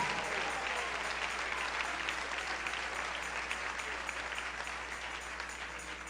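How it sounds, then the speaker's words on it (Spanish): A church congregation claps for the King during a sermon by Pastor Jorge Garcia, with sustained fairly soft applause filling the room and slowly tapering toward the end. "Dale ese aplauso al Rey."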